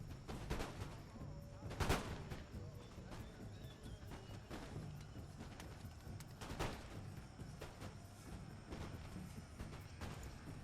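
Musket volleys crackle in a large Empire: Total War battle, with scattered sharp gunshots at varying distances, one louder nearby shot, over a busy battlefield bed of distant firing.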